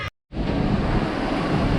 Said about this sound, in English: It's absolutely raining.